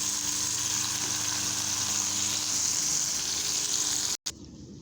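Cheeseburger patties topped with cheddar cheese sizzle and fry steadily on a Bella XL 22-inch griddle, a close, continuous hiss that cuts off abruptly near the end.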